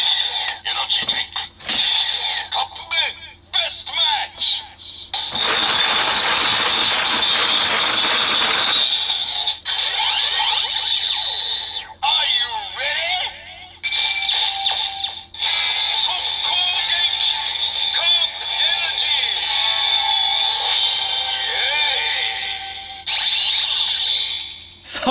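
A Kamen Rider Evol Driver toy belt plays its transformation sequence, loud and electronic with a bright ringing tone, ratcheting mechanical effects and a dense burst of music partway through.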